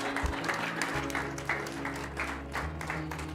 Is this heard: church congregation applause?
yes